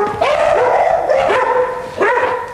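Working dogs bark close by in a series of sharp, loud barks, with a few higher yips and whimpers between them and a clear second burst near the end.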